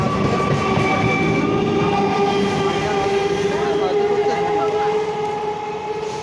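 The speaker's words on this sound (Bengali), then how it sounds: "নেমে পড়েছি ট্রেনে, ট্রেন চলে যাচ্ছে 4টার সময়" A train pulls away from Gurudasnagar station with a loud, continuous rumble and wheel clatter, while sustained tonal horn or whistle notes sound throughout.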